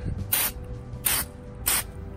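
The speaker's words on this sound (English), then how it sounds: "Hold the spray can around 300 millimeters away and give it a good" Dry moly coating hisses from a spray can held about 300 mm from stainless steel outdoors, three short, loud bursts spaced roughly evenly with quiet gaps between them and no talking.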